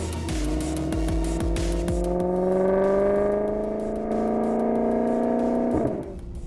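A 2009 Maserati GT-S, one of 300 made, accelerates hard on the road. The engine note climbs loudly through the revs with quick gear changes and faint tyre noise, then drops off at the end with no talk.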